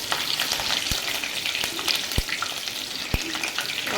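Long-cut green chilies fry in hot oil in a pan for Punjabi-style bhindi sabzi, a steady dense sizzle running the whole time with a few sharp pops and spatters, no voices.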